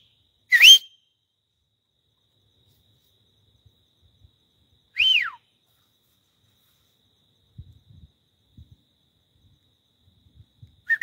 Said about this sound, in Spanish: ¿Alguien que sea bueno para silbar, para que les contesten?